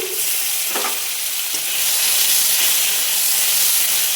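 A cut tomato fries in hot oil with five-spice seeds in a pan just used for fish, giving a loud, continuous sizzle and hiss with a couple of sharp crackles near the start.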